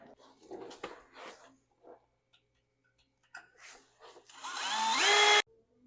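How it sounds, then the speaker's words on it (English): A power drill bores holes for a sway bar disconnect bracket on a Toyota, a rising whine of about a second that cuts off abruptly, preceded by faint clanks and handling noises in a quiet garage. "I've got the 2 new holes drilled"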